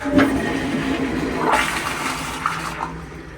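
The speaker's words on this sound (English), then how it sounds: "Let's flush it." Toilet flushing in a hotel room bathroom at Hilton Historic Plaza Santa Fe, a loud, close rushing of water swelling midway and then draining off.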